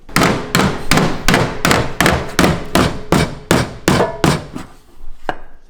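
Hammer pounding the loose corner of a Corrado car body, about a dozen loud, evenly spaced metallic whacks close up, then a final strike after a short pause.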